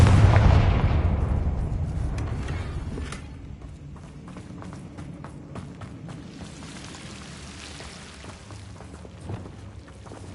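A Confringo blasting spell explodes in the video game Hogwarts Legacy, a loud booming burst at the start that rumbles and decays over a few seconds, followed by scattered clicks, thuds and distant action sounds.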